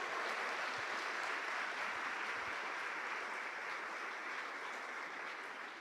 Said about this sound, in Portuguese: Só os filhos aplaudam o seu pai.